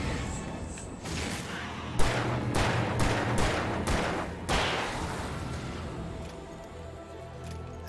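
Rapid gunfire in the game Alan Wake Remastered: a burst of several loud, close shots in quick succession, with a couple more scattered reports and lingering rumble afterward.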